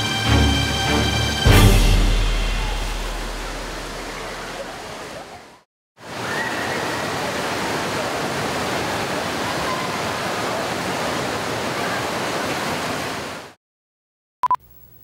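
Rolling waves at the Willamalane wave pool make a steady broad roar of churning water. The sound cuts out briefly, returns and carries on without voices.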